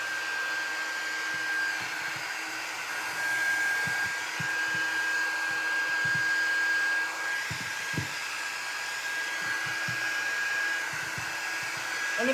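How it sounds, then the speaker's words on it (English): Heat gun blowing steadily on hot glue strings on a wood shim and popsicle stick Christmas tree craft, a continuous airy roar with slight fluctuations and faint handling knocks throughout. "I'm just going to turn my heat gun."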